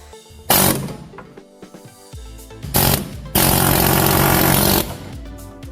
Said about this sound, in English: a big fork that goes in here and pushes these apart. And luckily the one we have is pneumatic.